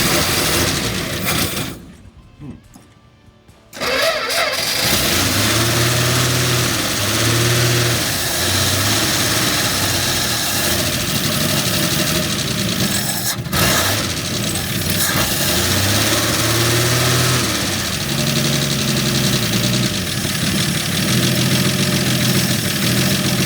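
A classic Dodge truck's Slant 6 engine with a slight exhaust leak, running after years of sitting. It cuts out briefly, then restarts and idles roughly and loudly, with repeated revving surges close by.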